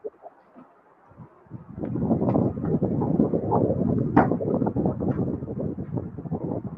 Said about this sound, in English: It just sounds like you're in a wind tunnel right now. Oh, I'm sorry. That's my fan.